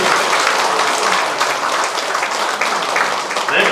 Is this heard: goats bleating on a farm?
no